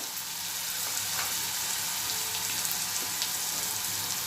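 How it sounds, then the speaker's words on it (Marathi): Onion sautéing in a pan with turmeric added, giving a continuous close sizzle and hiss at an even level with faint stirring ticks throughout, no voices. "कांदा छान आपला परतत आलेला आहे आता कांद्यामध्ये आपण थोडी हळद टाकून घेऊया"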